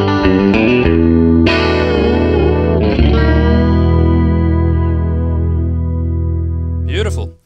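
An electric guitar played through a Line 6 M13 effects unit with chorus, depth and mix turned up and a compressor behind it, giving a loud, sustained, shimmering chord that rings out and fades, then a short final strum.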